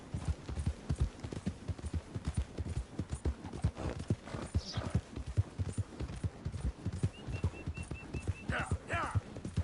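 A horse's hooves gallop in a video game with a fast, steady clip-clop rhythm that runs the whole time. Brief whinny-like calls rise near the middle and the end.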